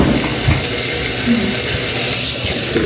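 Tap water pours steadily into a tub or basin to fill a baby's bath at home, a close, continuous splashing rush with no voices.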